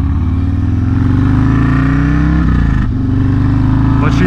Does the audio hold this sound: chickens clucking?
no